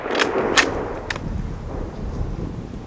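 Rifle shots fired at a moose on an Alaska hunt, two or three sharp cracks early on, then outdoor ambience afterward.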